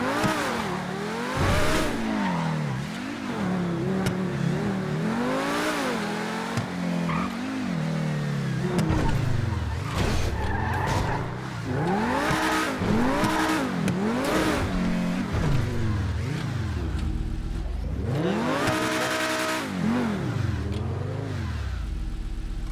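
A McLaren supercar in GTA 5 revs and accelerates repeatedly, engine pitch sweeping up and down through gear changes, loud and close, with occasional tire squeal.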